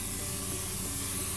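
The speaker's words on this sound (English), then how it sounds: "Now you're noticing that whilst I'm spraying, I'm keeping the bottle upright" A spray tanning bottle held upright releases a continuous fine hissing mist, soft and steady through a brief burst, with no talk.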